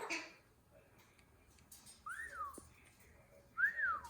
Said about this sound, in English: He likes to whistle and click and beep like the microwave.